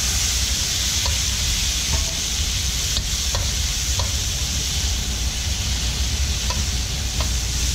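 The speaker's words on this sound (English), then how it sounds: "stir fry these until they are beautiful" Pineapple, onions and asparagus stir-frying in a pan for smoked pork soba, a steady loud sizzle with scattered stirring clicks and scrapes throughout.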